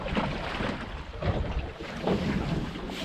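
Wind gusts across a fishing boat at sea and buffet the microphone in a loud, steady roar, with water and hull noise underneath and no talking.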